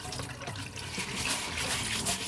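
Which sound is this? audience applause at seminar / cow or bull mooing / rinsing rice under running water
rinsing rice under running water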